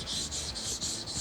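Back of a chisel rubbed on a diamond sharpening stone held in a jig, a close, steady rasping scrape in four even back-and-forth strokes, no talking.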